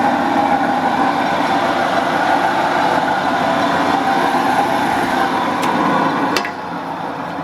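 An old Aronson 30-inch faceplate welding positioner turns at increased speed, giving a steady, close mechanical rumble and hum with a couple of sharp clicks near the end as the level dips slightly.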